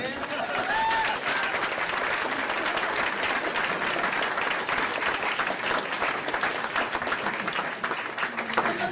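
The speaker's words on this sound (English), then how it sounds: "I think we should give her another round of applause" A room full of people gives a sustained round of applause, dense continuous clapping at an even level throughout, with some crowd voices mixed faintly beneath it.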